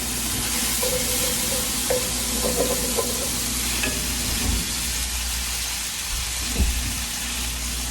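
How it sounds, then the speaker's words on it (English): A utensil scrapes browned fond from the bottom of a sizzling pan while cooking spatchcocked chicken, with a loud continuous sizzle, intermittent scraping strokes and a few clunks, close and with no talking. "I'm also scraping the pan to get up that fond, that base of browning that you get in the bottom of your pan."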